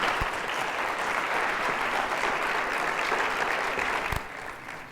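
An audience greets a lecturer, Dr. Sandro Galea, with sustained applause, a dense, even clapping from a crowd that holds steady for several seconds before starting to thin out near the end.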